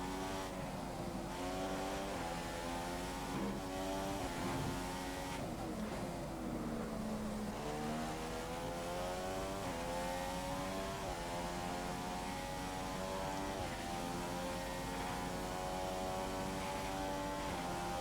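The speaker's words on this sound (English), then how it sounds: "I would say listen to that roar, but it's not. It's more like it sounds like a bloody lawnmower." Race car engine in the F1 2015 video game drones continuously and loudly, its buzzing pitch climbing and dropping through repeated gear changes with no pause.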